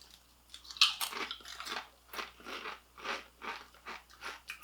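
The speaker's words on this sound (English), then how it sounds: "That is a better crunch than I remember from an original Lay's." Kettle-cooked potato chips are bitten and chewed up close, a sharp first crunch followed by a steady run of crisp, rhythmic crunching bites with no talking.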